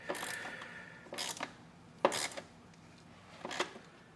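Short ratcheting clicks of a small Torx driver snugging down screws on a Mercedes-Benz GLA 250 air filter cover, four brief close bursts spaced about a second apart with no speech.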